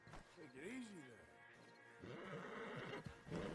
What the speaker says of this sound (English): See if we can get this horse to get moving.